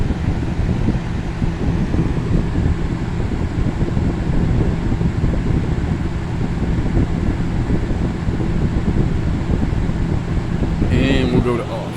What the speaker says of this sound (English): there's two fans running right next to each other